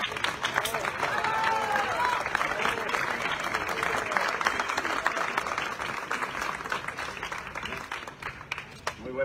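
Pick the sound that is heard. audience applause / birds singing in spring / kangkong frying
audience applause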